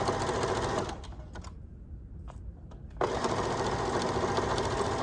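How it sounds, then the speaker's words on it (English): A sewing machine stitches a quarter-inch seam along the edge of a square pillow, a steady close whir that slows and pauses for a moment midway before running again at full speed. "we're just gonna stitch down this edge with a 1/4 inch seam"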